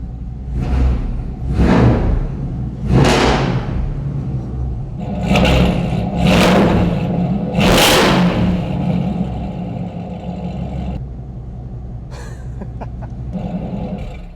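Chevrolet Silverado V8 exhaust with a raspy, aggressive tone gives about six sharp revs in a row, each surging and falling back to a lumpy idle, close and loud with no talking.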